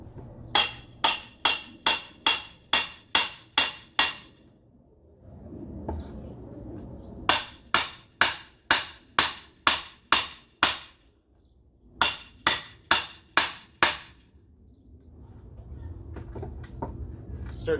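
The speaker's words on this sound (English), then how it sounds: "to remove this board, I'm going to use this crowbar here and just a hammer." Hammer and crowbar prying nailed pallet boards apart: three quick runs of sharp, ringing metal blows, about eight strikes each, separated by brief pauses filled with quiet scraping and creaking wood.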